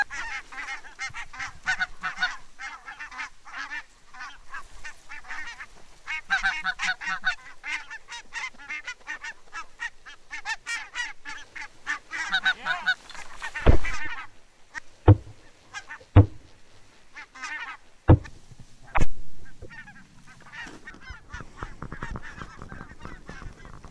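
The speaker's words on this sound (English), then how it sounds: "A lot of geese come in. Big groups, small groups, some high, some low." Flocks of geese fly in on a Danish wildfowling outing, honking in a dense, continuous chorus at moderate distance, with a few loud close thumps or bangs in the middle stretch and the calls continuing afterward.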